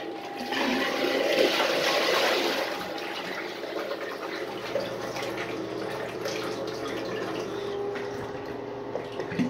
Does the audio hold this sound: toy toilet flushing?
yes